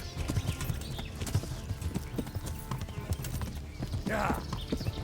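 Horse hooves galloping in the medieval game Kingdom Come Deliverance, a fast, busy rhythmic clip-clop throughout, with a brief horse whinny rising near the end.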